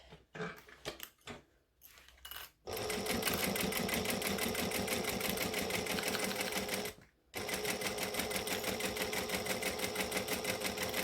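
A sewing machine top stitching slowly around a mitered corner on a quilt, a few short starts and stops, then a long steady rapid chatter, a brief pause and more even stitching, close and fairly quiet.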